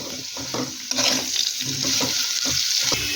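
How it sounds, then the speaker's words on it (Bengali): Potatoes fry in a pan with salt and turmeric, stirred steadily. A continuous hiss of oil carries through the whole stretch, with recurring scraping strokes of a spatula on top of it. No one talks. "আলুটাকে লবণ হলুদের সাথে ভালো করে মিশিয়ে নেব"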